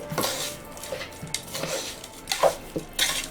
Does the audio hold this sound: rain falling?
no